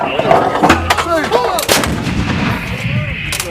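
Artillery gun firing during a crew fire mission, a loud, close boom followed by a long rolling echo and rumble, with shouted commands nearby.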